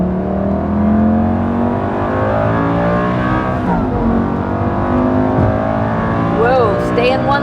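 Lamborghini Gallardo Superleggera engine while driving, a loud continuous drone with rising and falling gear-linked pitch sweeps as it accelerates and shifts, heard from inside with voices talking over it.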